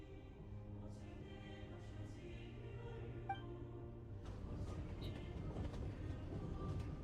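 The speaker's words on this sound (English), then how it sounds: "Is that our train?" Ambient train rumble from a Genshin Impact game scene, a steady low hum with rail noise that swells louder partway through as the carriage sound grows rougher and closer.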